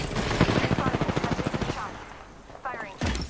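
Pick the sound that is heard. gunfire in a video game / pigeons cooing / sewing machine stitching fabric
gunfire in a video game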